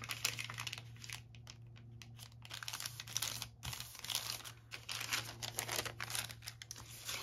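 Craft material is folded by hand in a quiet room with soft, close crinkling and rustling, continuous with small bursts, over a faint steady hum.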